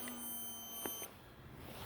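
Flight timer of a HobbyKing EZIO 1.5m RC plane at its maiden flight, set for eight minutes, giving steady high electronic beeps outdoors that stop about halfway through, leaving a quieter background.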